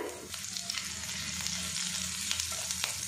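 Chopped green chili hits hot oil already seasoned with nigella seeds, giving a steady close sizzle with sharp crackling pops throughout.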